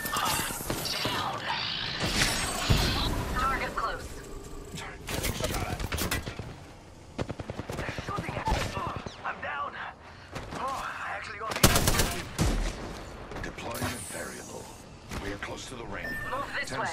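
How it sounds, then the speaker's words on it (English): Bursts of gunfire and rapid automatic fire in a video game firefight, loud and dense throughout with sharp impacts, mixed with game effects and overlapping speech. "They're shooting at me? Only 30 seconds. Taking fire."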